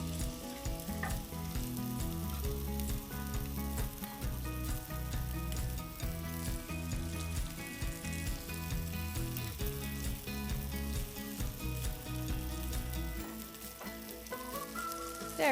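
Homemade chicken breakfast patties frying in a home skillet, four or five to a pan: a continuous close crackle and sizzle with no one speaking.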